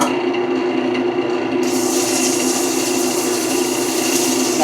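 Sandpaper rubs against a spinning wooden piece on a lathe, a steady close rasping hiss over the motor's hum, brightening partway through as the pressure changes.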